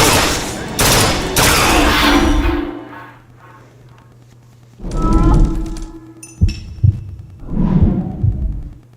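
Gunfire in the Bioshock Infinite video game, a rapid loud volley of shots at the start, then a quieter lull with a low hum before further sharp bursts and impacts return.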